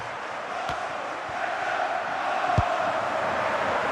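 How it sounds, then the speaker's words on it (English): Stadium crowd in the FC Mobile football video game, a steady broad roar that holds throughout and swells slightly toward the end, with a couple of brief thumps standing out. "Well, just listen to this crowd. They want a bit more."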